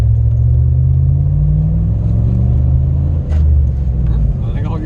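Car driven after a SeaFoam engine treatment, a loud low engine rumble rising steadily as it pulls away, close and continuous.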